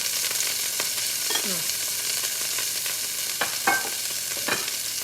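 Beef sizzles and fries steadily in a pan beside broccoli, with a few scraping stir-and-flip sounds and short clanks rising over the constant close hiss.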